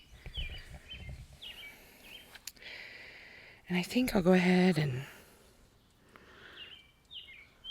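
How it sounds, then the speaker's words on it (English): Soft bird chirps and tweets in a garden, partly under a person speaking in the middle of the clip. "can you hear the birds singing? They're so happy."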